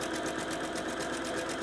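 A sewing machine runs steadily while stitching a zigzag seam on fabric for a circus tent, giving a fast, even mechanical whir with a regular stitching pulse throughout, fairly quiet and with no voices.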